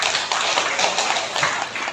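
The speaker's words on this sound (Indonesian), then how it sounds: "Tepuk tangan untuk kita semua." Audience applause at a village development planning meeting, a steady dense wash of clapping hands filling the room, loud and continuous without pause.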